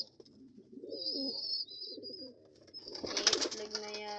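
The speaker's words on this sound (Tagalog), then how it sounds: "Iitlog na yata ito mga kalapatids." Pigeons cooing close by in a loft, soft low throaty coos in short phrases, with a higher bird call and some rustling and clatter toward the end.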